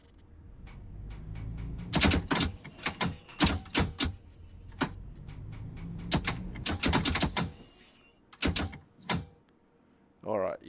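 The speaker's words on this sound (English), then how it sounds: "No, I'm gonna have to use a keyboard, I think" Clattering keystrokes on a computer keyboard while playing the London Underground route in Train Sim World, with sharp clustered taps in bursts separated by pauses, close and fairly loud over a low background hum.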